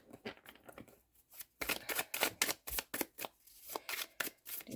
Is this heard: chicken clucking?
no